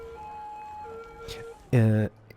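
Emergency vehicle sirens in the city-building game Cities: Skylines, thin steady wailing tones followed by a short, loud, pulsing blare, with a voice talking over parts of it.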